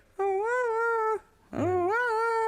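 A dog whining in excitement: two long, high, tonal whimpers, the second rising and wavering after a short gap, close and clear with no talk.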